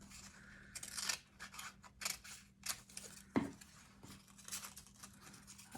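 Scissors snipping a triangle out of paper, a series of quiet, close, crisp cuts in short bursts with pauses between.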